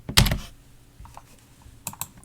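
Computer keyboard keys clack in a short burst of quick taps, then fall quiet, with a couple more sharp keystrokes near the end; close and fairly loud, no voices.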